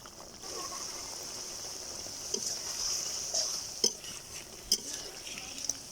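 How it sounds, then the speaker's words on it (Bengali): Hilsa fish pieces are stirred in spiced oil in a frying pan, giving a low, quiet sizzle. A few distinct spatula scrapes and taps against the pan stand out in the second half, close by and without speech. "এখন আমি মাছগুলো নেড়ে চেড়ে দিচ্ছি।"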